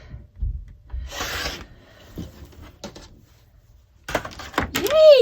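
Quilt fabric is trimmed along a ruler edge for a quilt block. A short, raspy cutting swipe stands out among soft rubbing and handling sounds, with a few sharper clicks near the end.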